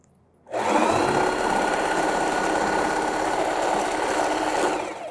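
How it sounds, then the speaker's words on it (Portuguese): Electric sewing machine stitching a dish towel with a backstitch, starting from silence into a loud, steady whirring motor hum with a fast stitching chatter that holds for several seconds. "Agora nós vamos para a máquina e fazer uma costurinha aqui, ó, com um pezinho de máquina."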